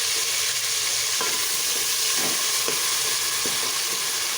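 Cut onion, green coriander, mint and chili stirred in a frying pan over ginger garlic paste for chicken curry, a steady loud sizzle with a few scraping stirs, close and without talk.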